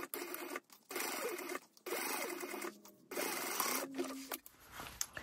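A sewing machine stitching a handbag lining in short bursts of rapid close mechanical whirring, separated by brief pauses, with no talking.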